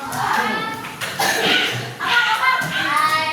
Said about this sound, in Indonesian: Oke, tepuk tangan buat kelompok ekosistem.